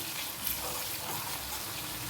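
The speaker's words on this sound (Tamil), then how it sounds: "சூடானதுக்கப்புறம் இஞ்சி வெள்ளை பூண்டு போடலாம். இது நல்லா ஃப்ரை ஆகணும்" Ginger and garlic fry in hot oil in a kadai, giving a steady, close, dense sizzle that holds at one level throughout.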